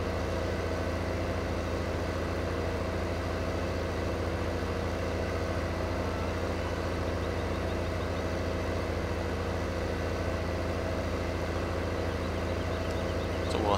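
Steady tractor engine droning at idle in Farming Simulator 15, a constant low hum with no talk, unchanging throughout.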